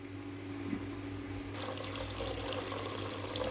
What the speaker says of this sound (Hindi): इसलिए मैं पानी इसके अंदर और डालूंगी।